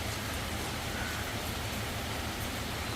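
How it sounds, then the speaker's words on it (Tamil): Heavy, steady rain that has kept falling since the night before, a dense continuous hiss with no pauses and no voices. "நேற்று இரவில் இருந்து ஃபுல் மழை"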